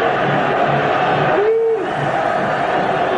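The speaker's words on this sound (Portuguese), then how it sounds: "a explosão na torcida no Estádio Olímpico" Dense, loud stadium crowd roaring at a 1982 Brazilian championship final football match between Grêmio and Flamengo at Estádio Olímpico, a steady wall of cheering that swells briefly near the middle before settling back to a continuous roar.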